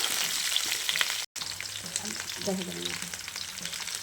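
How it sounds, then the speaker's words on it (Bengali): Potatoes and cauliflower fry in hot oil with a steady, dense sizzle, close and continuous, with occasional stirring scrapes and a brief dropout in the middle. "ওর জন্য আলু আর ফুলকপিগুলো ভেজে নিচ্ছে"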